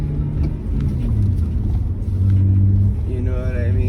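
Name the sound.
2006 BMW 330i manual car engine while driving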